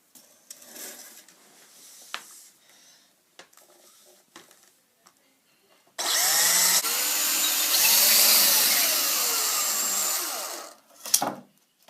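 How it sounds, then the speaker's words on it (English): After some quiet handling clicks, a power drill whirs loudly and steadily for about five seconds, then winds down, followed by a short final burst. "Drill a hole right here, same size as the cable."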